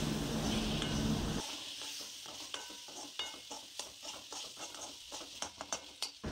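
Tomatoes, potatoes and coriander are stirred in a pan, giving a run of close scraping and tapping spoon strokes over a soft sizzle. A louder burst of frying comes first, and no one speaks.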